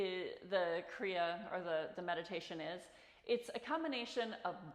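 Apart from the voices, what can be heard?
No everyday noise stands out behind the speech.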